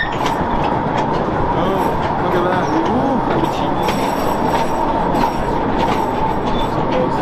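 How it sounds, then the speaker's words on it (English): An underground subway train rolls along with a steady, loud rumble and faint clatter of wheels on rails, while a voice speaks briefly over it. "Enjoy a train ride underground until we get down there."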